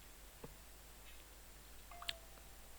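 A phone gives a short, faint electronic notification beep twice, the second slightly stronger, over a low steady background hum with no talking.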